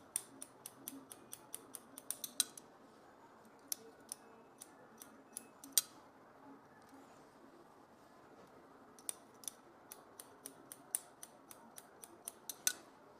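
Scissors trim eight-shaped curtain bangs in quick runs of crisp, close snips, pausing between clusters and then resuming in a steady snipping rhythm.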